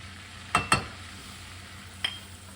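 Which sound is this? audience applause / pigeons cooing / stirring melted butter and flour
stirring melted butter and flour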